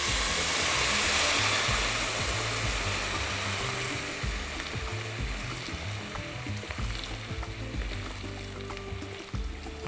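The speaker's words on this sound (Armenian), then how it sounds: "Լցնում ենք մոտ 1 լիտր ջուր։" About a liter of water poured into a hot pan of browned beef pieces for a tenderloin sauce, bursting into loud sizzling and bubbling at first, then settling into a steady, slightly quieter boil with occasional stirring clicks.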